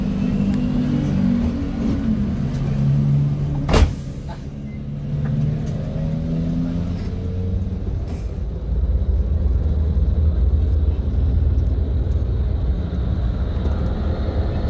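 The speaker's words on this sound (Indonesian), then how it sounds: "Dan sekarang busnya sudah jalan" A coach bus pulls away and drives on, its low engine drone and gear changes rising and settling as it gathers speed, heard from inside with a sharp knock early on.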